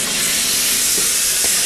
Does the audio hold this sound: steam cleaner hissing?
yes